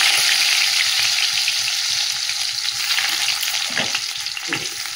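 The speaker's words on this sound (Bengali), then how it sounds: "সাদা তেল দিয়ে দিলাম, দিয়ে যে রসুন কুচিয়ে দিয়ে দিচ্ছি" Chopped garlic frying in white oil for fried rice, a loud continuous sizzle close up with faint stirring scrapes toward the end and no voices.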